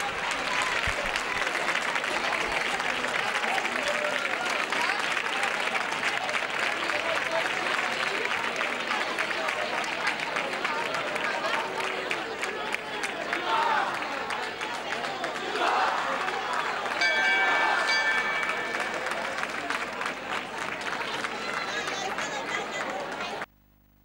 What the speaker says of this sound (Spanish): entre los aplausos de los asistentes